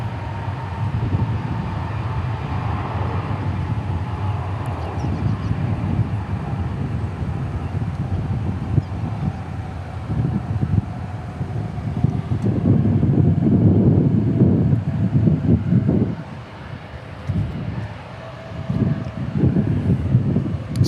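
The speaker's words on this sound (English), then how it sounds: "So that was a repositioning flight from Tokyo on a 777-200." Boeing 777-200 jet airliner on a repositioning flight from Tokyo at DFW Airport, a steady broad low rumble swelling louder toward the middle and end, with wind buffeting the microphone throughout.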